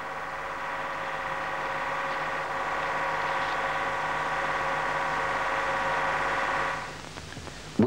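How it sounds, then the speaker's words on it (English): A steady mechanical whine with a droning hum runs evenly from a 4-cylinder diesel fuel injection pump on a test bench, then cuts off near the end. "In this example, a 4-cylinder pump is under test."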